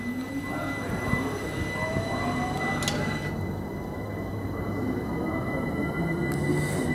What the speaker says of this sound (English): So I've got three Overground trains, this one's going through across London.